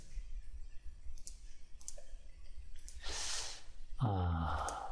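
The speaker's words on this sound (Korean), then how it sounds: "더블 클릭" Faint computer mouse clicks while working in Inventor CAD software: a few soft, close clicks, including a quick double-click, under quiet breathing and room hiss.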